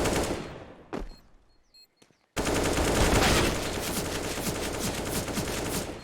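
A Counter-Strike match in which a short burst and a few isolated shots give way to a long, loud run of rapid automatic gunfire, dense and continuous, with no one talking.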